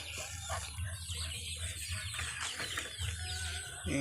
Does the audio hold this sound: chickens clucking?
yes